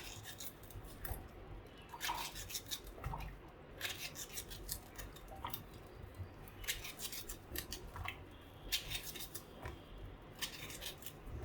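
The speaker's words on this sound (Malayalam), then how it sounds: "ഇങ്ങനെ നാലായിട്ട് കീറിയിട്ട് ഇച്ചിരി മുടുത്തായിട്ട് ക്യൂബ്സായിട്ട് കട്ട് ചെയ്തെടുക്കാം" A knife cuts raw nendran banana into small cubes after splitting it lengthwise into four, giving a steady run of sharp close taps and scrapes against a board, with no talking.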